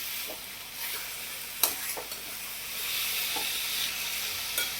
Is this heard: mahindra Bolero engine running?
no